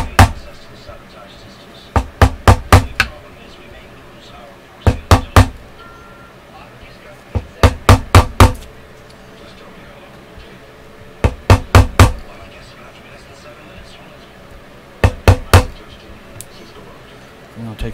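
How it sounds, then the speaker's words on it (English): A small hobby hammer lightly taps the frets of a Jackson Warrior guitar in a workshop, sharp close knocks in quick bursts of two to five strikes, each burst separated by a pause of a second or two. "I feel gaps under some of these, so I'll take my hammer, my little hobby hammer,"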